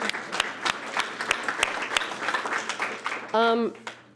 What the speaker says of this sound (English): I'm just going to clap for them again